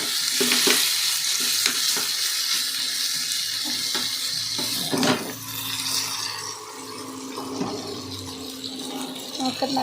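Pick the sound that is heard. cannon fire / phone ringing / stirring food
stirring food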